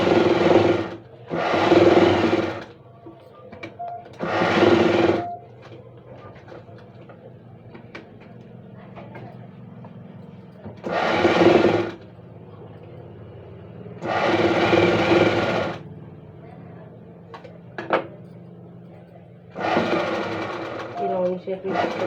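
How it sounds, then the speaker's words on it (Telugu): A sewing machine stitches a blouse lining in about six separate loud runs of rapid mechanical clatter, each lasting a second or two, with quieter pauses between as the fabric is turned. "చుట్టూ కుట్టు వేసుకోవాలి."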